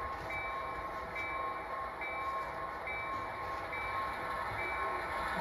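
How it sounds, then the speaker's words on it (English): A steady rumble of a Milwaukee Road Beer Line freight train at a crossing fills the clip, with a faint high tone repeating every second or so over the continuous rolling noise. "Train here at crossing."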